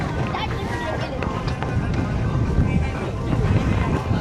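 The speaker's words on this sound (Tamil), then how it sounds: "அந்த பிளேஸில் வந்துட்டு நம்ம இப்போ போட் போயிட்டுருக்கோம்" A boat motors across the Sea of Galilee, its steady engine and water rush blended with heavy wind buffeting the microphone, continuous and fairly loud throughout.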